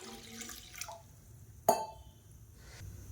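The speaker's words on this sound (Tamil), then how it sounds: "இதில் பார்த்திங்கன்னா நல்லா ஒரு 3 டம்ளர் அளவுக்கு தண்ணி சேர்த்துக்கலாம்" Water poured into a cooking pan while making tomato chutney in a home kitchen, a soft brief splash and trickle amid quiet room noise, with no talking.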